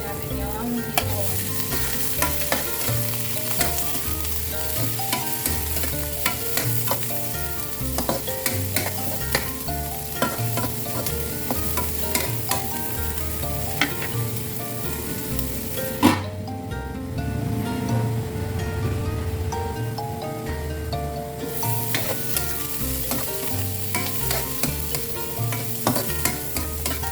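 Shrimp with onion and garlic sizzle loudly in a pan, with a dense, continuous crackle and regular scraping stirs throughout; the frying briefly eases mid-way before resuming at full strength.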